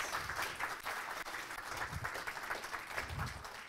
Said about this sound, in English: I love that I get to get a standing ovation before I've even said anything.